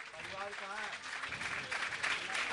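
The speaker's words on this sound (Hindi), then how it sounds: "तालियां बजती रहनी चाहिए" An audience claps at a Jain monk's religious discourse gathering, with steady, dense applause under a voice and a murmuring crowd.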